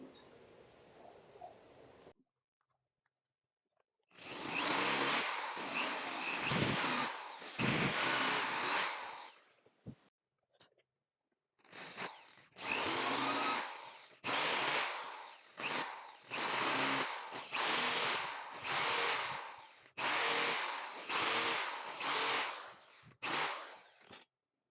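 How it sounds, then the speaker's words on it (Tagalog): A power drill boring into a wooden saw handle, loud and close, in several whining bursts of varying length separated by short pauses. "subukan natin barinahan ng di media mga bro"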